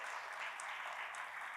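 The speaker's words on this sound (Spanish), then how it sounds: "Los Luques ya son visitas, un aplauso para ellos." Applause from a church congregation welcoming visiting families at a Christian camp gathering, a steady, muffled wash of clapping held at an even level throughout.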